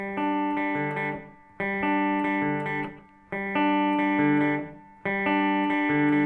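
Guitar arpeggios in four repeating phrases, picked notes ringing in the middle and upper range without low bass notes, played alone.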